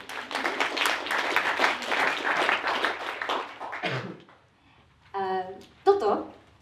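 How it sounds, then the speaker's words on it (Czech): Audience applause during a talk on English pronunciation, a brisk run of clapping lasting several seconds that fades out, after which a speaker's voice is heard. "potlesk pro vás"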